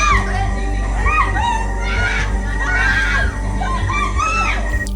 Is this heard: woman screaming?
yes